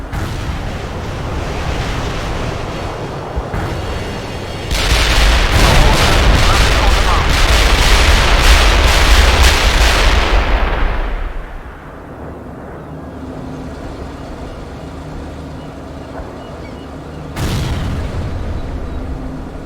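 Heavy artillery barrage in the World in Conflict war game, a loud sustained roar of booming blasts that swells for several seconds, then drops away, with a final thump near the end.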